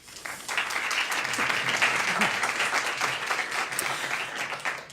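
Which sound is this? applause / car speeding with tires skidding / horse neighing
applause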